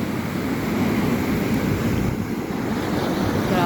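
Huge muddy-brown sea waves crash and roar continuously at close range, a dense unbroken surf rush mixed with wind buffeting the microphone, with no talk.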